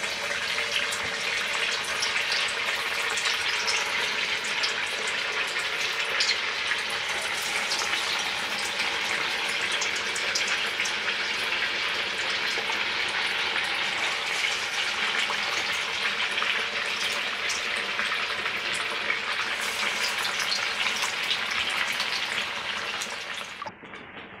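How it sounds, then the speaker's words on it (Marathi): Sabudana vada patties fry in hot oil, a loud, continuous, close-up sizzle and crackle that holds steady throughout, with no talking, before cutting off at the end. "आता आपण लगेच साबुदाणे वडे तळायला घेऊयात"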